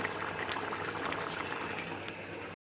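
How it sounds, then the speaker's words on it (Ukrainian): A steady bubbling simmer of thick adjika sauce in a pot, continuous and close, with small pops breaking the surface throughout. "після цього кипить 10 хвилин"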